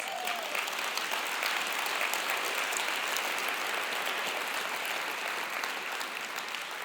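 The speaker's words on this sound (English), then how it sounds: "Let's give him a round of applause." A large audience applauds continuously at a talk about football and elite mindset, a dense, even roar of clapping heard from some distance for the whole stretch.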